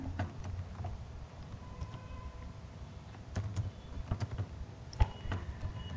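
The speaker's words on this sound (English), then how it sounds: "Here you can type your program." Quiet, irregular keystrokes on a computer keyboard while a program is entered into a text editor, scattered clicks over a low background hum.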